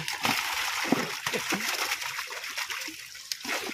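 Water splashing and sloshing in a brick-kiln pond as large fish such as catla are hauled and handled at the edge, irregular close splashes running throughout with faint voices in the background.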